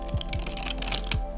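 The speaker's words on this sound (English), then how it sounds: "Yeah, you can hear they are plastic cards" A waterproof plastic deck of cards being shuffled, a few quick crisp clicking flicks close to the mic, short and dry with no talk.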